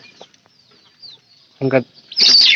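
Chicken chick on a village farm peeping and clucking in short bursts, a few faint calls and then a louder cluster of chirps near the end, close by, with no talk over them.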